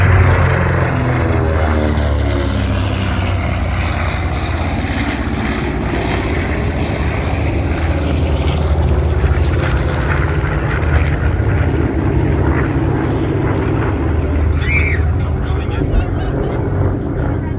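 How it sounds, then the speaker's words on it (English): A propeller fighter plane makes a pass on a PBJ bomber, its engine drone loud and continuous, rising and shifting in pitch as it sweeps by, with a voice talking over it. "And here he comes in for a pass on the PBJ."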